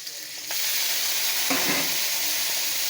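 Taro leaves and prawns sizzle and fry in a pan, a dense, steady hiss close by that swells as the greens are stirred in, with no talk over it.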